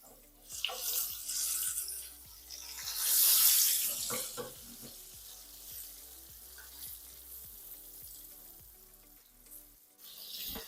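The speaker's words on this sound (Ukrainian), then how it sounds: "На середньому вогні я буду смажити до золотистої скоринки." Steady hiss of thin pork chops frying in an uncovered pan over medium heat, with scattered clinks and scrapes of cookware throughout; no voices.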